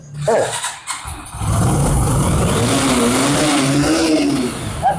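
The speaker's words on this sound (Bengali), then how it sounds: "সেলফে সেলফে স্টার্ট দিয়ে তারপর নিতে পারবেন" A motorcycle is self-started and its engine settles into a steady, loud revving drone up close, holding for several seconds with pitch rising and falling slightly.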